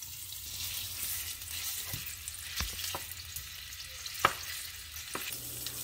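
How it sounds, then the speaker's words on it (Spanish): Longaniza sausage frying in oil in a pan, a steady close sizzling hiss broken by a few sharp pops and clicks. "en el mismo aceitito, en el mismo sartén, vamos a colocar nuestra longaniza"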